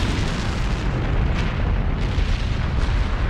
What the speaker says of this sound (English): It is as I fear. The mountain has awoken.